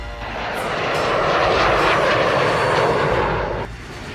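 An Indian Air Force fighter jet flying overhead, a loud broad roar of jet engine that swells steadily and holds, then drops off sharply near the end.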